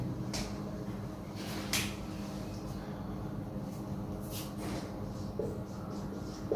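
Marker or chalk scraping across a classroom board while a definition is written, a faint steady scratching broken by a few sharper taps and strokes, with no one talking.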